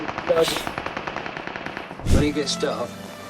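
Rapid automatic gunfire from a PUBG Mobile match on an iPhone 11, a close stream of burst shots followed by a heavy, booming impact, with players talking over it.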